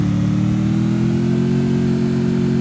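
A motorbike engine in a mobile battle royale game drones loud and steady, holding a sustained high rev with a buzzing, even tone throughout.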